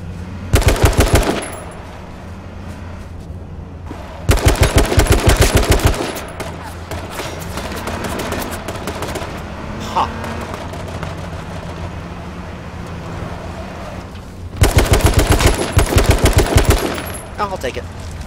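Loud bursts of automatic gunfire from hip firing in the video game H1Z1, three separate rapid strings with quieter gameplay noise in between.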